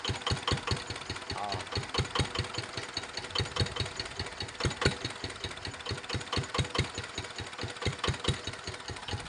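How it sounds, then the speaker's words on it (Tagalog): A Yanmar F5C single-cylinder engine idles with a rapid, even knocking beat, each firing pulse distinct and steady throughout, recorded close without talk. "Parang mamamatay na yung makina natin."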